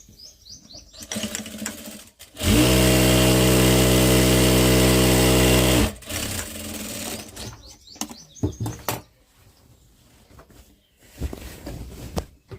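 A sewing machine stitches the folded hem of a saree petticoat in one loud, steady motorized run of about three seconds, surrounded by quieter fabric handling and clicks.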